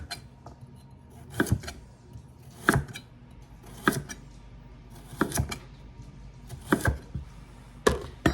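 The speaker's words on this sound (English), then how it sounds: "with these carrots, is I'm just going to slice them, keep them pretty uniform in thickness so that they all cook fairly even" Knife slicing through carrots on a board during meal prep, giving sharp, spaced chops in small clusters at a steady working pace, fairly close, with no talk over them.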